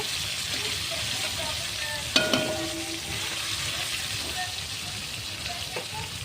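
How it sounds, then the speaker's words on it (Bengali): Tilapia fish pieces fry in hot oil with a loud, steady sizzle and crackle, a sharp spatter burst as something is moved in the pan, and no voices. "এইভাবে বন্ধুরা আমি সম্পূর্ণ মাছগুলো ভেজে নেব।"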